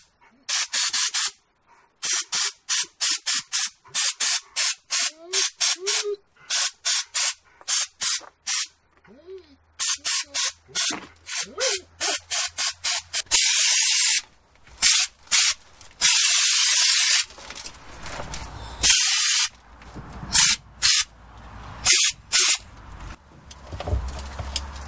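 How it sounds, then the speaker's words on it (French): A handheld sprayer applies underbody anti-salt protection to a car chassis, giving loud repeated short hissing bursts in quick rhythm, then longer continuous sprays with brief pauses, close up and with no talking. "on a passé un coup avec le pulvérisateur"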